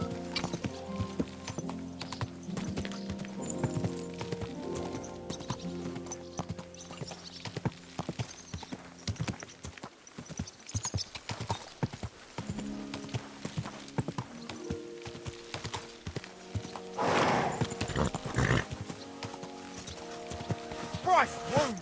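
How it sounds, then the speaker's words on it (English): Horse hooves clip-clop in Kingdom Come: Deliverance II, a steady run of close hoofbeats with occasional whinnies, mixed with music and a voice talking over them. "Easy, good horse."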